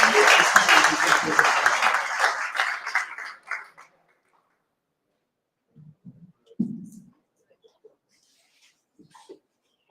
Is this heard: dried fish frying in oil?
no